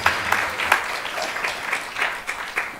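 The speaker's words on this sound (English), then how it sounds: "Please give them a big round of applause" An audience at a Sunday feast program claps in a round of applause, a dense patter of hand claps with sharper individual claps standing out, steady and moderately loud.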